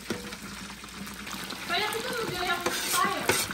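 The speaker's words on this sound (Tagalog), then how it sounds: "nagpiprito pala ako ng fried chicken" Chicken frying in a pan crackles and sizzles steadily at close range, with a few clinks, under someone talking.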